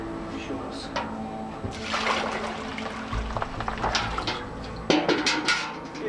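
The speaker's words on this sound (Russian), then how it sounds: "Два ведра воды как минимум. Сливаем." Buckets of water poured out while panning ore for gold, giving irregular splashing and gushing pours with bursts of running water, close and fairly loud over faint background noise.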